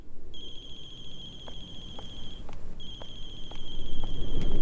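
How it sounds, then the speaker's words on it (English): A loud, shrill electronic phone ringtone in the horror video game The Closing Shift repeats in two bursts with a short gap, set against soft ambient background noise. "loud ringtone. I'm sure the neighbors are like, shut up."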